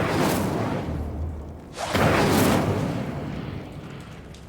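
A fire spell, Incendio, cast in the video game Hogwarts Legacy, two loud roaring whooshes of flame, the second swelling bigger and fading out, with no talk.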